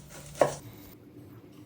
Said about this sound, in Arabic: حبة بصل كيفاش نقطعوها صغيرة.